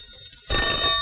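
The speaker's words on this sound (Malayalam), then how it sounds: "ഫോൺ ബെല്ലടിക്കുന്നത് നിനക്ക് കേട്ടൂടെ എന്റെ കുട്ടി?" A telephone bell starts ringing halfway through, a loud, close rattling burst that continues to the end after a quiet start.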